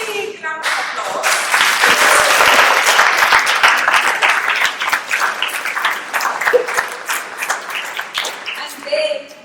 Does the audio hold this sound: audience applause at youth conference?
yes